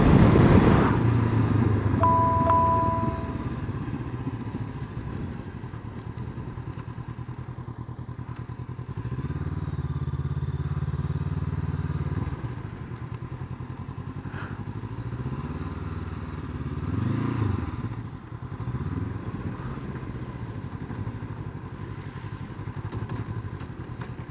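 A Honda CB500X motorcycle rides a hilly North Yorkshire lane, its engine droning steadily with rising and falling revs over a rumble of wind noise and a few knocks and clatters.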